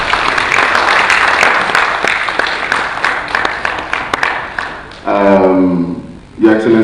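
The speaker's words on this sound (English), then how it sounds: "can we make welcome with a round of applause Mr." A conference audience at National Diaspora Day 2019 applauds to welcome a speaker, loud sustained clapping that fades out before a voice begins speaking near the end.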